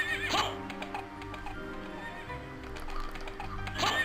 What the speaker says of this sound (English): This horse, we need to deal with this horse first.